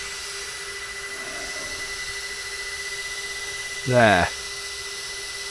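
A power tool briefly whines while trimming the plastic gearbox cover of an X-Maxx 8S RC car, a short rising burst over a steady background hum, with a single brief spoken word.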